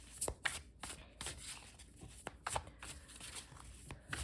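Soft riffling and flicking of a tarot deck being shuffled several times, quiet crisp bursts with short pauses between.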